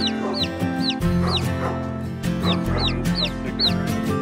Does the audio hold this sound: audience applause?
no